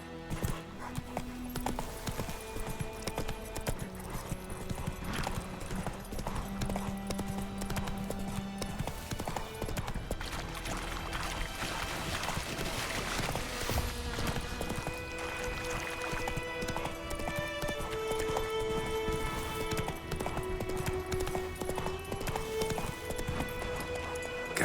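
Roach the horse galloping in The Witcher 3, a dense, continuous clip-clop of hooves close up, under in-game music and ambience.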